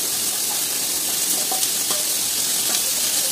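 Pumpkin strips hit hot oil with ajwain paste, giving a steady, loud sizzle and frying hiss throughout, with faint stirring clicks.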